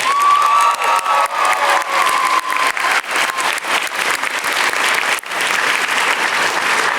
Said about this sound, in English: So one more time, let's give them a round of applause.